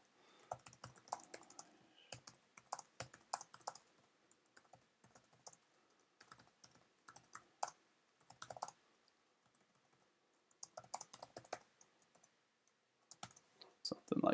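Bursts of keyboard typing on a computer while web front-end code is written, quick irregular clatters of keystrokes separated by short pauses, close and fairly quiet with no voices.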